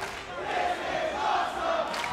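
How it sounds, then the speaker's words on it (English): A large arena crowd at a professional wrestling match chants in unison, a loud rhythmic roar of many voices swelling and repeating. "Listen to the crowd"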